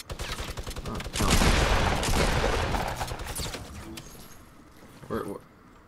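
Rapid gunfire in Fortnite Battle Royale, a steady burst of repeated shots near the start followed by a dense sustained barrage that fades, with players talking over it.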